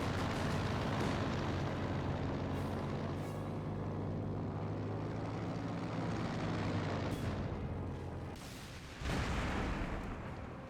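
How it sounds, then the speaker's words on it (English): Aircraft blowing up in Company of Heroes 2 amid a continuous roar of battle, with heavy rumbling explosions and a sharp burst near the end. "Aircraft does explode there."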